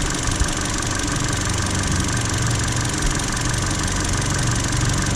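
Car engine idling in a workshop bay with an intermittent misfire, a steady close mechanical drone with slight irregular knocks running through the whole stretch, no voices.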